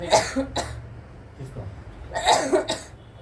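Several harsh coughs close by, a burst at the start and another pair near the end, with quiet breathing between.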